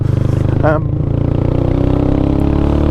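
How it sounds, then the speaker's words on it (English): A Yamaha Scorpio 225 motorcycle engine throbs loud and close with a steady, pulsing exhaust beat that continues without a break, and a brief voice cuts in over it. "that exhaust popping all over the place, it's really genuinely fun"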